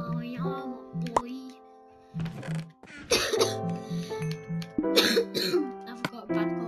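Coughing and throat clearing from a person playing Minecraft on PlayStation 4, a few sharp bursts set against steady game music tones.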